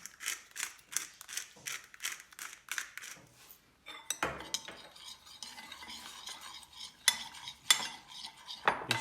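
A spoon stirring flour and pepper into a thick marinade in a bowl, heard as a steady run of close, rhythmic scraping strokes followed by sticky mixing sounds and occasional clinks.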